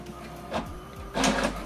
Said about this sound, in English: when you print this alignment